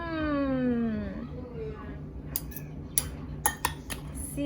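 Utensils clink and scrape against a bowl while black-eyed peas salad with vinegar, salt and lemon is mixed, a few sharp, close taps following a voice that glides downward at the start.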